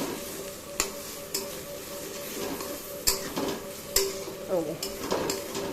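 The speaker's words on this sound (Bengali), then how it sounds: "এভাবে পুরো ডিমটা এই সব সবজিগুলোর সাথে ভেজে নেব" Eggs frying together with carrot, capsicum and onion in a pan, a continuous close sizzle broken by several sharp spatula scrapes and stirring strokes at irregular intervals, with no speech.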